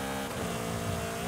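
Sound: Alpine A110 car engine in video game Forza Horizon 5

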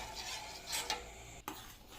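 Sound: stirring almond milk cream in a pan on the stove

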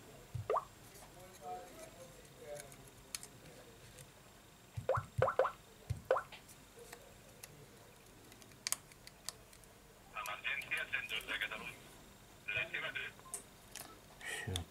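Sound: phone emergency call tones on Samsung Galaxy S4

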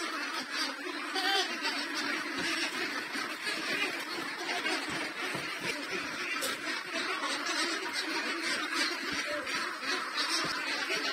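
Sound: ducks quacking on a duck farm

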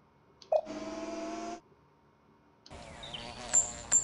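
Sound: mysterious buzzing like flies, from a video game

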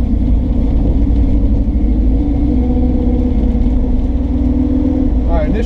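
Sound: 1970 Dodge Challenger engine running

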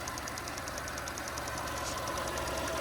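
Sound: car engine idling smoothly

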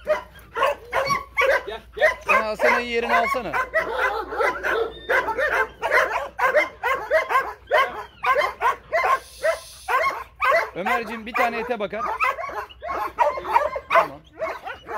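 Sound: dogs barking and whimpering

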